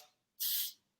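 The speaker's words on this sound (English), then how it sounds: "I'm just spraying the hairspray into them roots just to give it a bit of" Hairspray is sprayed into the roots of braided hair in one short, sharp hissing burst of about a third of a second, close and alone.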